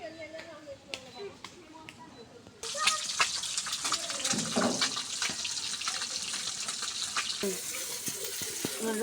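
Rohu fish sizzling and crackling in hot oil in a kadai, a steady broadband frying hiss that jumps louder after a quieter opening, with scattered clinks and stirring scrapes throughout.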